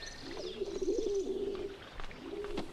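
A dove coos softly in a few low, rolling calls, a longer warbling coo followed by a shorter one, fairly close against a quiet background.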